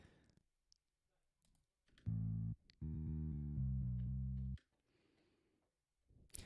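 MIDI playback of a bass tablature part for Mr. Bungle's Carousel, a few seconds of straight, synthetic low bass notes amid mouse clicks.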